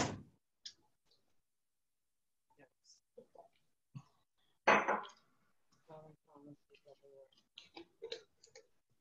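Sparse, irregular clicks of typing on a keyboard, quiet and close, alternating with bursts of a voice speaking over it.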